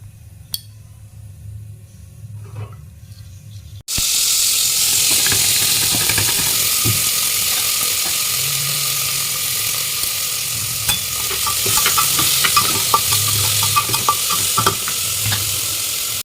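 Bay leaf and five-spice tempering drop into hot oil after a few quiet seconds. A sudden loud hissing sizzle erupts and carries on steadily with scattered pops and crackles.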